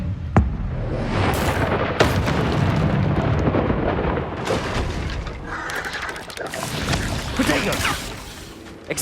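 Confringo blasting curses explode in the Hogwarts Legacy video game, a run of loud booming blasts and crackling impacts with a sharp burst near the start, over continuous dense game noise with a voice speaking at times.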